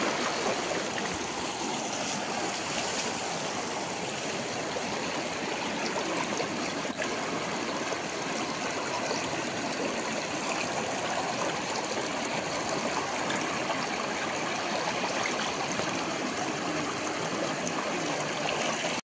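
Fast floodwater rushing through a stream during the 2025 flood in Hailakandi: a loud, unbroken roar of turbulent water, close and constant, with no voices.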